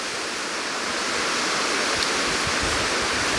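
Hraunfossar lava field waterfalls in Iceland roar as a steady, dense wash of falling water, broadband and unbroken, with no voices.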